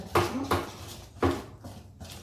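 A whisk mixes vegan plum cake batter in a bowl, striking its side in a few loud, clinking knocks with uneven gaps between them, close up with no voices.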